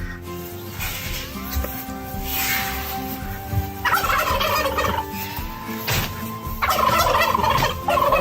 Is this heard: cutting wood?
no